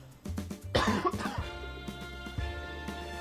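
A burst of harsh coughing and throat clearing close to the microphone, a few sharp hacks that fade into a lingering tonal hum from the Monopoly game on PS3.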